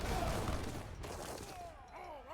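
Heavy cannon volleys firing in the real-time strategy game Age of Empires III, a dense burst of rumbling booms in the background, with battle noise rolling together.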